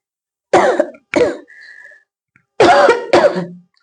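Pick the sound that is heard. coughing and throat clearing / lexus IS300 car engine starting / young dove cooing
coughing and throat clearing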